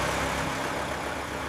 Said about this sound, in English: Engine running, RPM climbing, systems green.